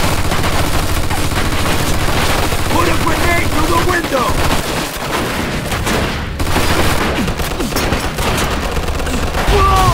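Sustained machine gun fire from a firefight in the video game Mafia II, loud and continuous, with dense rattling bursts and booming shots throughout, briefly easing midway before surging again.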